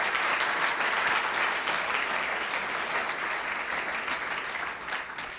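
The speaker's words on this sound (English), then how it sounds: "Can we have another round of applause for Amy Knight, everybody?" Audience applause for speaker Amy Knight after her talk on e-commerce growth, a dense, steady clapping from a sizable crowd that holds strong throughout and eases only slightly at the end.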